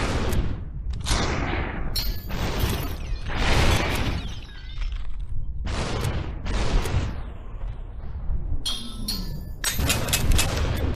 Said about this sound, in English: the ambient noise of the level, the shattering of glass, and gunshots echoing through an empty world